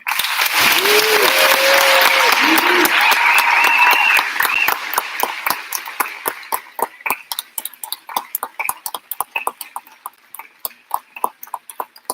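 Graduation ceremony crowd applauding chorus students after the national anthem, loud sustained clapping with cheers and whoops that fades into scattered claps over a quiet hall.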